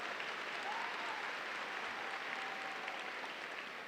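A steady, distant wash of crowd applause rolls through a high school graduation ceremony hall, faint and even throughout with no distinct voices.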